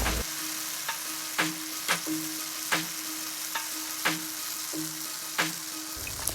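Kokis batter frying in hot oil using a mold, a steady close sizzle broken by a regular series of sharp taps and clinks of the metal mold every second or so.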